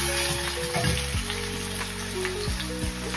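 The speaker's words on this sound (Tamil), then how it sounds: "கத்திரிக்காய், வாழைக்காய் நல்லா ஒரு 2 நிமிஷம் வதக்கணும்." Brinjal and raw banana sautéing in a pan give a steady, dense sizzle, close and continuous throughout, with no talk.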